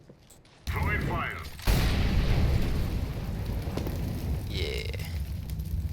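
An incendiary grenade goes off in Counter-Strike: Global Offensive with a sudden whoosh, and the fire then crackles loud and steady with a roaring, rain-like hiss for several seconds while a person speaks briefly.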